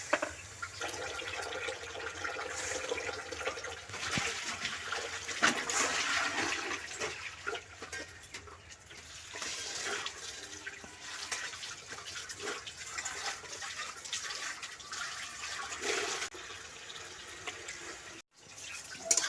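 Water is poured from a bowl, six bowlfuls in all, onto sugar and nalen gur jaggery to make syrup for rasgulla, a steady rushing pour that runs for most of the stretch with no talk.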